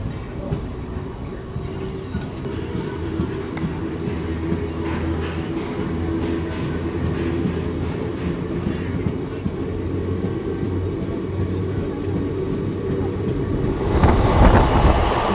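Passenger train leaving Madhupur junction, a steady loud rolling rumble of carriages and wheels that swells into a rushing burst near the end.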